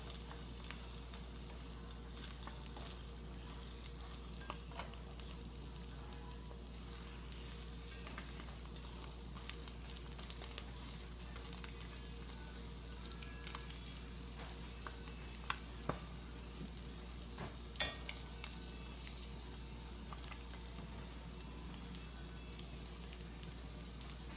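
Eggs frying in a cast iron skillet, a continuous soft sizzle with scattered pops and crackles throughout, close and fairly quiet with no talking.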